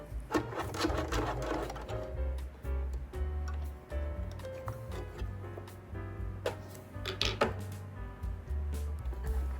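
A home sewing machine stitches with polyester thread, a close, continuous humming motor with fast ticking needle strokes and a few louder clatters throughout, with no talk.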